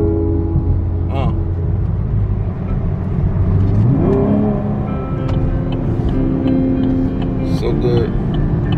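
A 6th-gen Camaro V6 1LT drives along with a steady, loud engine drone and road roar throughout, rising briefly as it accelerates, while people talk over it.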